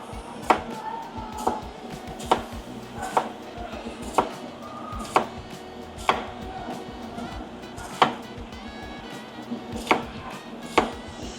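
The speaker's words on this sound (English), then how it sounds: "So I'm gonna cut my onion." Knife chopping an onion on a cutting board for crispy fried onions, a steady series of sharp, close knocks spaced about a second apart, with faint kitchen background and no talking.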